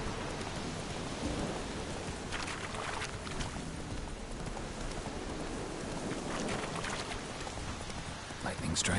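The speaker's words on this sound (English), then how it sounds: "Lightning strike." Steady heavy rain with a low thunder rumble in the Witcher 3: Wild Hunt video game, the downpour constant and loud throughout with brief brighter crackles rising out of the wash.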